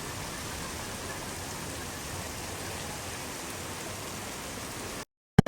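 Heavy rain falls during a storm in Lahore, a dense even hiss of drops that holds steady for about five seconds and then cuts off abruptly.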